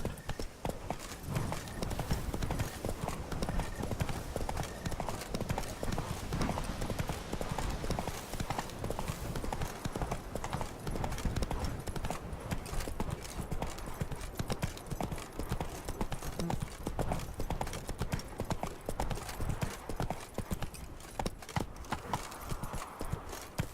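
Horse hooves clip-clop steadily in The Witcher 3: Blood and Wine, a dense, even trotting rhythm at moderate distance continuing throughout, with faint ambient game sound beneath.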